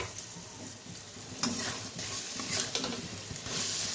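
Spice masala for a fish curry with potatoes sizzles and fries in a pan while a spoon stirs and scrapes it, a close, steady crackle with a few louder scraping strokes.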